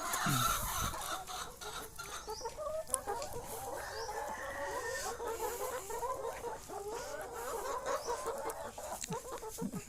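Chickens on a small Thai egg farm cluck and chatter steadily close by, a dense layered flock sound that runs throughout with no talking.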